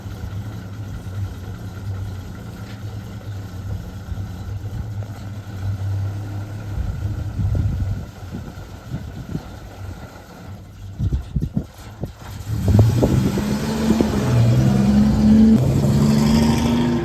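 A car engine idles, then revs and pulls away, its rumble rising and swelling nearby before settling into a steady drone.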